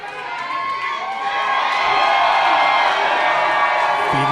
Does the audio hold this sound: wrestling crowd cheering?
yes